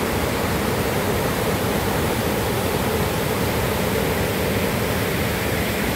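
The Chalakudy river at Athirappilly rushes in a dense, constant roar of water, loud and unbroken from start to finish, with no voices.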